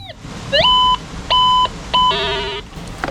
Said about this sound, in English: we're still on the hunt with the metal detectors, hoping that we could find that big one